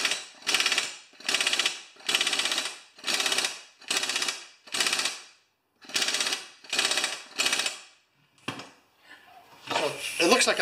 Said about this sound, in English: this is a very weak impact wrench. I go till it just stops turning